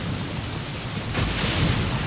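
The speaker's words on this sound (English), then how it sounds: "Taking a stroll in the middle of a downpour certainly rouses the spirit" Heavy downpour pours down in the Genshin Impact video game, a dense steady hiss of rain that swells louder partway through, with low rumbling thunder underneath and no talking.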